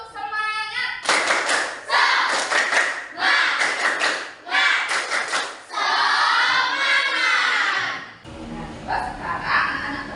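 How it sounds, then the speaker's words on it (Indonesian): A classroom of children performs a rhythmic spirit clap, bursts of loud clapping in a patterned beat with chanting voices between groups of claps. "Tepuk semangat."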